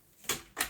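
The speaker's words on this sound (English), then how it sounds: "I'm going to just shut this door." A door being shut in a home, two quick soft knocks as it swings and latches, close by with no talking.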